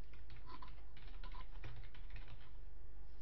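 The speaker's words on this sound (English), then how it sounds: "type in your message." Keys clatter on a computer keyboard as a message is typed, a quick uneven run of light taps at close range, fairly quiet, with no talking.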